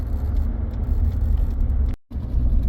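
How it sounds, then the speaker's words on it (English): A 2017 Ford F-150 engine misfiring while driving: a steady, loud low rumble with rough, uneven texture, broken by a brief dropout near the end before the rumble resumes. "so she's misfiring like crazy right now"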